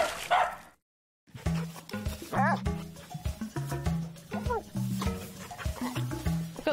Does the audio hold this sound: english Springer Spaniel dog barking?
yes